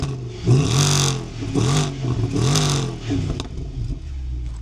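A Mercedes-AMG 6.2-litre M156 V8 starts and is revved in three or four sharp, loud bursts up close, each rising and falling before it drops back to a rough idle.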